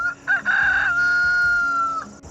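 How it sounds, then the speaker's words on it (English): A rooster crows once, loud and close, a long drawn-out call that trails off, with faint background clucking. "That rooster."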